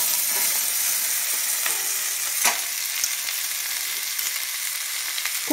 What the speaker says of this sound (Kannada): ಇದು ಫ್ರೈ ಆಗಲಿ ಫ್ರೆಂಡ್ಸ್